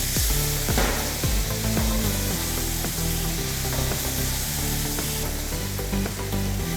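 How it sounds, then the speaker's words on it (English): Saffron milk is whisked briskly in a pan for Goan sheer, a steady sizzling hiss with quick stirring scrapes running throughout over background music. "We have to put the saffron milk and whisk and move it very fast."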